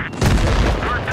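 A heavy cannon impact lands on a tank in World of Tanks Blitz, a single loud boom that rolls on for about a second.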